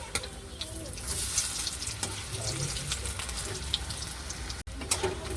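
Greens fritters made with hinche shaak fry in hot oil, giving a close, crackling sizzle with small pops and a brief clatter as the pieces are handled.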